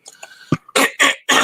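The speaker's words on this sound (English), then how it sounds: "I had to clear my throat there." A man clears his throat several times, first with a few short rough hacks and then with three loud, harsh bursts, close up and with no speech.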